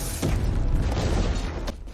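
A booby-trap bomb explodes in an action film scene, a deep heavy boom that swells and rumbles for under two seconds before cutting off sharply.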